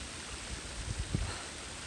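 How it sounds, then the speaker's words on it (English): A water feature in Rotherham town centre splashes and rushes steadily outdoors, a continuous broadband wash with a few soft bursts of spatter. "Rotherham has a water feature."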